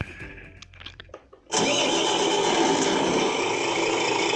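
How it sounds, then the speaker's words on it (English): An RC tractor truck's sound module starts its simulated engine. A few faint clicks lead into a sudden starter burst, and the engine then settles into a steady, loud, even idle rumble. "Engine start."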